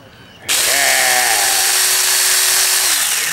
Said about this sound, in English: The handheld chainsaw, you guys.